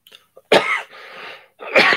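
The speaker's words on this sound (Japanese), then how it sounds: "こうやって咳するだけでも嫌がられるし" Two harsh coughs separated by a brief raspy breath, close and fairly loud, with no talking; a person coughing during a live stream.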